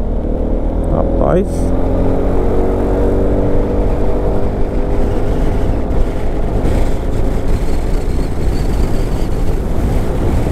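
A heavy truck labours and pulls away in stopped traffic, its deep engine drone steady and close throughout, with a man calling out briefly over wind noise near the start.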